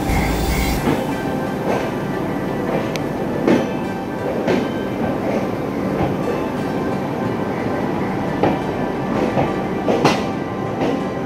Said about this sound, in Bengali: Now I am standing at the platform number 9 of Howrah Station, the most important platform of Howrah Station.